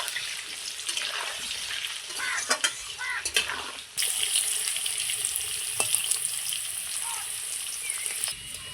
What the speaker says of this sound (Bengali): সুন্দর করে আমি আলুগুলোকে লাল লাল করে ভেজে নেব।